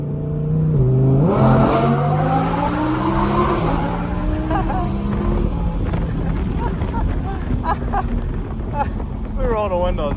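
Audi R8 Performance sports car, a 2022 model in automatic mode, accelerating with a rising, revving engine note that climbs through gears, loud and close from inside the cabin, with a voice talking over it early on.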